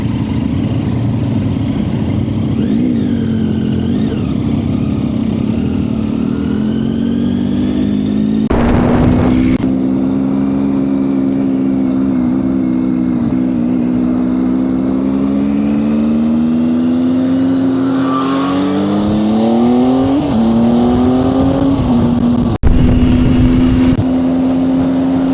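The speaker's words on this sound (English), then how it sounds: "Let these bikers go first." Motorcycles on the road by Bala Lake in North Wales, engines droning and rising in pitch as they ride past, loud and close with gear shifts and revving across a long steady stretch.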